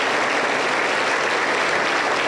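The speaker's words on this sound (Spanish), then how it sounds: "Fuerte aplauso para el Señor Jesús." A crowd at a Pentecostal church service in Peru applauds loudly, a steady dense clatter of many hands clapping throughout, with no voices standing out.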